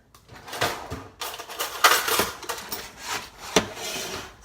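Baked acorn squash is lifted from the oven and flipped over in a home kitchen, giving a run of soft knocks, scrapes and clatter from the pan and utensils, close and irregular with brief louder clacks.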